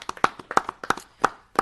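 A small group claps briefly at a town board meeting, giving a short burst of sharp, uneven hand claps in an indoor room.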